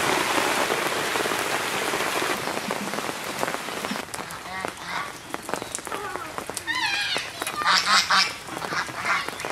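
Heavy rain pours down, a loud, dense hiss that dominates at first and then thins into patter and drips, with ducks or geese quacking close by in the later part.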